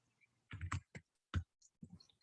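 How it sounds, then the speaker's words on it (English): Keys on a computer keyboard are pressed in a short, uneven run of soft close clicks, with brief gaps between strokes and near silence around them. "So I'm typing in my website."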